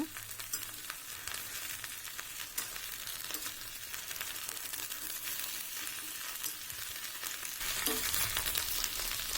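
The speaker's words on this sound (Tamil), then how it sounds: "ஒரு பத்து நிமிஷம் வதக்குனிங்கனாவே வெண்டைக்காய் நல்லா வணங்கிடும்" Okra fries in oil over a medium flame for vendaikkai puli kuzhambu, producing a continuous, fairly quiet crackling sizzle with occasional soft stirs and no speech.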